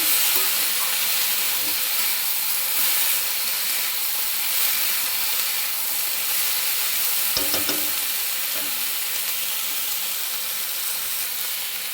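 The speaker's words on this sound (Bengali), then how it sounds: "একসাথে সব ভালোভাবে ভেজে নেব।" Vegetables and spices for masala pasta fry in a pan with a constant broad sizzle and hiss, joined by a few brief clicks and scrapes midway, with no talking.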